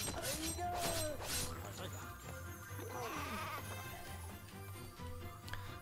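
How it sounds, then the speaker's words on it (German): Sheep in the video game Craft the World bleat a couple of times over a steady bed of game music and low hum, with scattered clatter in between. "Warum sind da Ziegen drinnen? Schafe meinte ich."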